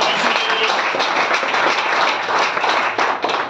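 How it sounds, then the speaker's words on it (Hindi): A crowd at an indoor sales meeting in a Hisar banquet hall claps loudly and steadily, dense hand-clapping that runs throughout without pause. "ताली बजा सकते हो आप एक बार?"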